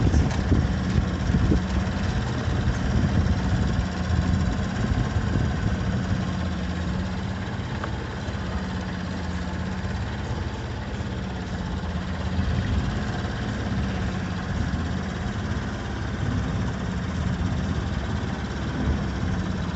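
A steady low boat engine drone runs continuously near Long Beach harbor, rumbling and humming at an even level with slight fluctuations.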